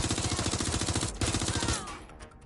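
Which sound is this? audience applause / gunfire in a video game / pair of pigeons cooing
gunfire in a video game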